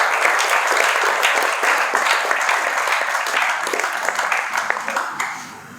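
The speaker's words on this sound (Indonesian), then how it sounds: "Tepuk tangan untuk generasi santri Al-Khair." A crowd applauds the santri of Al-Khair at a pesantren gathering, dense sustained clapping from many hands that thins and tapers off toward the end, with faint voices mixed in.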